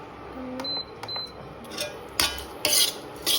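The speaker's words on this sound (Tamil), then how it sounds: "சரி, இப்போ இதை கிண்டி விடு." A dish is stirred in a cooking pan with a spoon, giving irregular scraping and clinking strokes with a few sharper metallic knocks, close and moderately loud.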